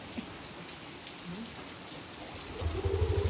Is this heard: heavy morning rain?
yes